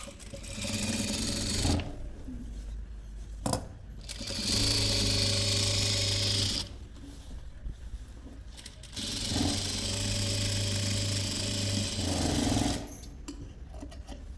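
A sewing machine stitches pant fabric in long whirring runs, close and steady, separated by brief pauses with light handling clicks and rustles and no speech.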